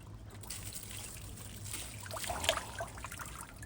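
Cold, clear spring water trickles steadily from a natural healing spring as a mason jar is filled, a continuous soft splashing flow with a few brighter drips standing out partway through.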